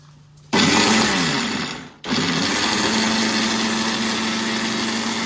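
Mixer grinder churning a paste for mango pulissery with a little water, starting abruptly with a loud whirring motor, briefly cutting out and restarting, then running steadily to the end, alone and close.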